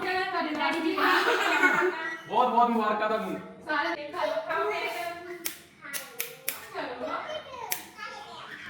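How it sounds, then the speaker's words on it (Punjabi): Family members clap for a mum and dad's wedding anniversary at home. Scattered, uneven hand claps break through lively adult and child chatter, sharper and more frequent toward the end. "ਤਾਲੀਆਂ ਮਾਰ ਦੋ"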